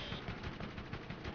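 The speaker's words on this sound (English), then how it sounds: "I have a machine gun on this." Rapid machine gun fire in the Borderlands video game, a quiet, continuous stream of evenly spaced shots with no talking.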